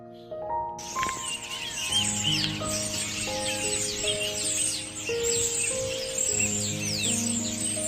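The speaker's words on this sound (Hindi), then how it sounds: "रोड के एंड पे पहुंचा तो मुझे ये पंछियों की आवाज़ सुनाई दी।" Many birds call together from a leafless tree at the end of a road in the UK, a dense, steady chorus of high chirps and tweets under sustained musical tones, with no talk.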